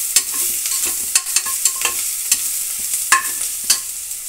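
Ginger garlic paste fries in a pan for a vegetable pulao while being stirred, a bright hissing sizzle broken by regular quick scraping strokes of the spoon, close and fairly loud.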